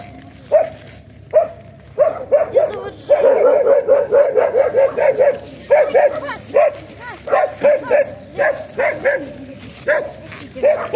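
A dog barks in a residential courtyard in Bakhmut during wartime, loud and close, in repeated sharp barks that start singly and then come in quick rhythmic bursts for several seconds.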